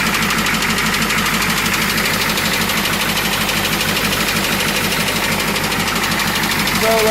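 A Ford F-250 engine idling with a steady, rapid knock from a bad injector on the front cylinder, loud and close, the rhythmic clatter continuous throughout.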